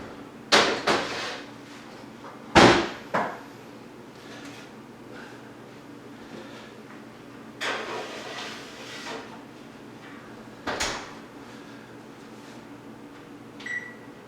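Oven door opened and closed in a home kitchen: several sharp clanks and thumps separated by quiet stretches with a low appliance hum, plus a short beep near the end.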